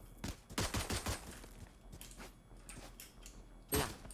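A weapon reload in the game Valorant gives a quick run of mechanical clicks and clacks, then a sharper metallic snap near the end, fairly faint and without talk.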